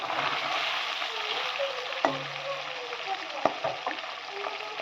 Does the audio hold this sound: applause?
no